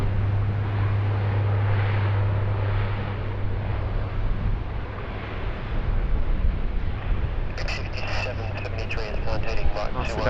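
Jet aircraft taking off from runway 16 right at Sydney Airport, a steady distant engine roar running under an air traffic control radio exchange, with another voice joining late.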